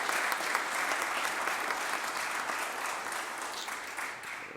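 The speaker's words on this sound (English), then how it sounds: "deserve a big round of applause" Steady, dense applause from a large audience at a Philadelphia council event, sustained and fairly loud for the whole stretch with no pauses or voices over it.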